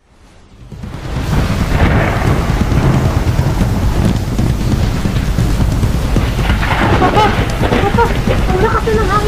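A strong typhoon in the Philippines brings loud, steady heavy rain and wind roaring close by for several seconds, with low rumbling thunder underneath.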